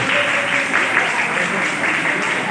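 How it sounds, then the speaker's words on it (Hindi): Sparse applause from a conference audience patters thinly and steadily, a modest spread of claps filling the room at moderate loudness. "इतनी कम तालियां।"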